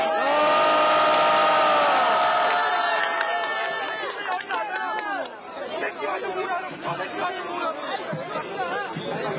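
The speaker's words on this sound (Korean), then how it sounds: "두 분의 공연 힘찬 박수로 맞이해주십시오" Crowd at an evening street vigil in South Korea cheers and claps to welcome a singer and a pansori performer, loud and dense at first, then thinning into chatter and scattered shouts.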